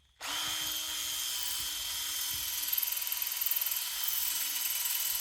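A power drill at work on a grain bin chicken coop run build starts abruptly and holds a steady, close, high-pitched whine for about five seconds, with no one talking.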